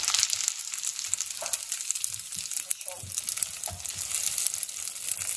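Bacon fries in a pan, a constant bright hissing sizzle with faint crackles and a few soft clinks of a utensil, close up and steady throughout.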